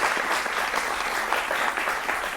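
Studio audience at a televised Hindi political debate breaks into loud, sustained applause to welcome the panel guests, a dense, steady wash of clapping with no talk over it.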